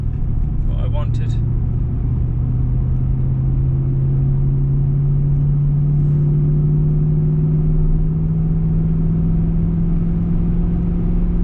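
A Land Rover Discovery 3 with a 4.4 V8 and manual gearbox cruises along, a steady low engine drone and road rumble from inside the cabin, with a brief clatter early on and someone talking over it.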